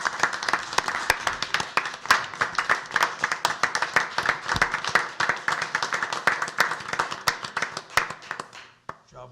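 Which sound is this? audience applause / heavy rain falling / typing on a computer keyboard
audience applause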